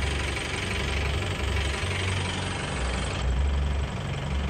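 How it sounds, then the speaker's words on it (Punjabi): A New Holland 3630 tractor with a super seeder sowing wheat in a field, its diesel engine running as a loud, steady close-up rumble with a faint knocking pulse throughout. "ਉਹ ਬੀਜੀ ਜਾਂਦਾ ਬਾਬੇ ਟਰੈਕਟਰ ਆਪਣਾ"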